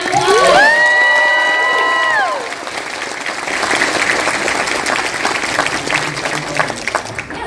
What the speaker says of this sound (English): Thanks, you guys. Round of applause.